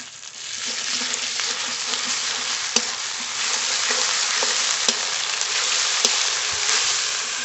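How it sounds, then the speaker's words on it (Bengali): Onion frying in oil in a pan for a Bengali-style desi chicken curry (kosha), with spices about to go in: a steady broadband sizzle fills the clip, with occasional crackles and spatters and no talk. "পেঁয়াজটা তো হালকা করে ভেজে নিয়েছি এবার একে একে মশলাগুলো দিয়ে দেব"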